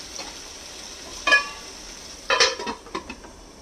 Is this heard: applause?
no